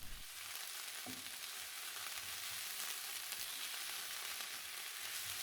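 Sliced peppers and aubergine fry steadily in a pan, giving a soft, even sizzle with faint crackles and no talking.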